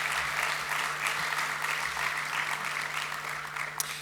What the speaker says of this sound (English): Please, a massive round of applause for all of our sponsors and supporters.